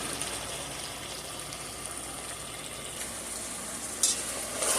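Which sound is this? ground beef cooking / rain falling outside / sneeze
ground beef cooking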